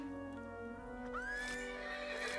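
A horse in the Horsez video game whinnies once mid-clip, a clear rising neigh over a held synthetic musical drone, with faint hoof clip-clop underneath.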